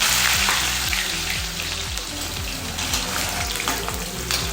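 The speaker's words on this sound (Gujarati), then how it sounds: "કાચા કેળાને આપણે તળી લઈશું" Raw banana slices frying in hot oil, a continuous crackling sizzle that fades slightly after the start, heard alone over faint background music.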